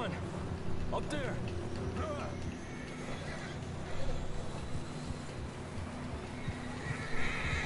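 Horses whinny and neigh in Red Dead Redemption 2 while hooves clip-clop under steady ambient noise, with a louder neigh near the start and further calls later.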